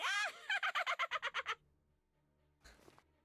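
A turkey gobbles in a rapid burst of about a dozen loud, rhythmic pulses, followed by a pause and a fainter, rougher call near the end, with no talking over it.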